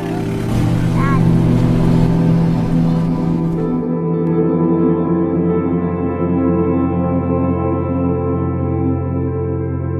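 A car driving near Taal Volcano, a loud, steady engine drone and road rumble close by throughout, with the high hiss dropping away after the first few seconds.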